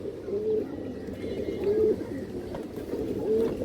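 Several ring-eyed pigeons coo softly in repeated low, throaty phrases over a steady murmur of background noise, close by and fairly quiet.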